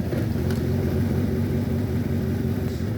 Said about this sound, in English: I'm going to put the key in the ignition, start her, get her all warmed up